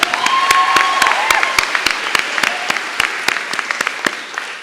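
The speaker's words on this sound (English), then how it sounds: "you can clap" Graduation ceremony audience applause for a student speaker, a crowd of scattered individual claps fading from a full burst into sparser clapping over a few seconds.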